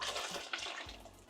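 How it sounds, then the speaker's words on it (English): Coconut cream pours into a pot for curried goat, a soft, thick glugging and splashing stream at close range, quiet and brief. "That beautiful coconut cream, we're gonna pour that in."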